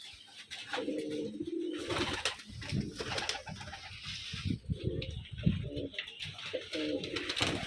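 Several pigeons at a home loft in Rajshahi, gift birds among them, coo repeatedly in low throaty rolls, close and steady, overlapping one another.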